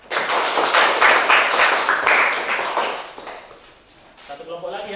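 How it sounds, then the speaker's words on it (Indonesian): Classroom students give a short round of applause after a group presentation, a few seconds of fairly loud clapping that fades out, followed by a voice speaking. "Tepuk tangan."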